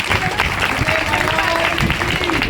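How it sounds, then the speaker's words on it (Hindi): An audience at a religious gathering at Shanidham in Gurugram claps steadily, a dense loud wash of hands with voices mixed underneath. "तालियां बजा दो"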